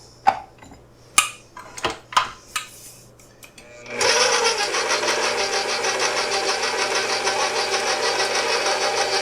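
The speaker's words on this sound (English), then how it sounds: "Hold on, let me move the stand mixer over so you can see it." Stand mixer kneading dough with a dough hook on low speed, starting after several clicks and clanks of handling, then a steady close whirring motor hum with a rhythmic churning pulse that continues to the end.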